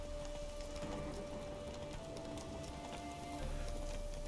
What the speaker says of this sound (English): We keep on riding through the rain and the lightning and all.